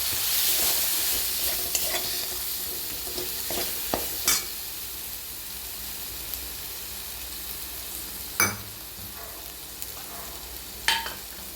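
Spices frying with garlic-onion paste in a pan for bhindi do pyaza: a steady close sizzle with scraping stirs and a few sharp clinks of the spoon against the pan, no talking.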